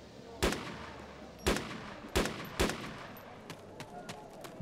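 Video-game gunfire on the Takistan map in Arma: several sharp, loud single shots spaced about a second apart, followed by fainter distant shots, with no talk over them.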